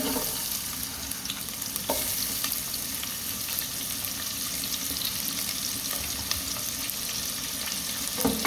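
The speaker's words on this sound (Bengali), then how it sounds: "একটু ভাজা ভাজা হোক পেঁয়াজ" Onions fry in hot oil in a pan for a pulao, a steady, dense sizzle running evenly throughout with occasional faint scrapes and clicks of stirring, and no one talking.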